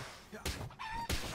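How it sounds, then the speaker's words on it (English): A chicken in a video game gives a short cluck or crow amid soft background game sounds, with a couple of thuds around it. "It's a chicken."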